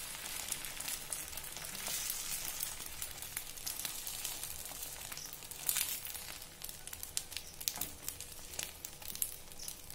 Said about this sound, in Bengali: তাহলে এবার আমরা ডিমটা এর মধ্যে ফাটিয়ে দিয়ে দিলাম, এভাবে ছড়িয়ে ছড়িয়ে ভালো করে একটু বড় করে এই করে নেবেন।